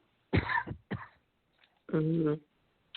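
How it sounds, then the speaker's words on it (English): A person coughs a few harsh times in quick succession, then makes a longer voiced throat sound, close and clear against silence. "You made me cough when you said that."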